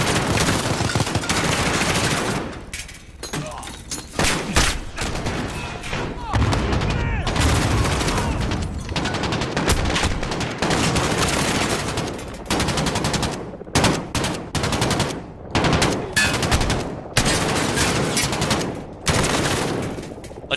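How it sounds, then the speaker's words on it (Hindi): Rapid gunfire fills a Call of Duty: Modern Warfare battle, with dense bursts of automatic and machine-gun fire, loud and close, broken by brief pauses and occasional single shots. "ये लोग अंधाधुंध गोली चला रहे हैं"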